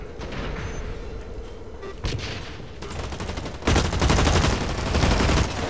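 Sustained automatic gunfire in the video game Blacklight Retribution, dense and continuous throughout, with a brief sharp shot near the middle and a louder, heavier burst of firing in the final two seconds.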